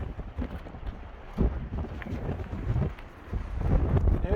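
Wind gusts buffet the microphone on a Surron electric bike at a Colorado mountain pass tunnel near 11,676 feet, a rough, fluctuating rumble that swells and fades without speech.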